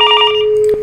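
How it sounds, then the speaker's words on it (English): A telephone rings for an incoming call routed through a Ribbon SBC, giving one short, loud electronic trill burst that cuts off abruptly. "So the call rings"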